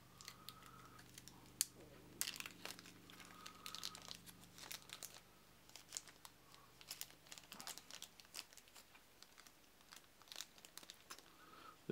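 Game cards being pulled out of plastic Ziploc baggies, with soft crinkling and rustling of the thin bags in short, intermittent bursts, quiet and close, over a faint background hum.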